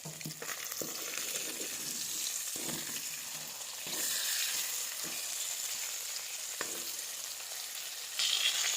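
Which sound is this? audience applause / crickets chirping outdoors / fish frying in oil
fish frying in oil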